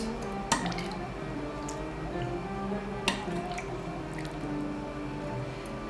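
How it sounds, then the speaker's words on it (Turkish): Cold syrup is poured over freshly baked dessert balls, giving soft, faint dripping and sizzling crackles with a few sharper clinks, close and quiet with no talk. "Şimdi soğuk şerbeti gezdiriyoruz."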